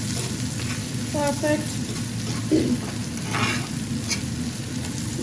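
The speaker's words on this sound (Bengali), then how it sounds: "আমার মাছ পিরান হয়ে গেছে একদম" Fish fries in a pan with a steady, even sizzle throughout, close and continuous, while a voice speaks briefly over it.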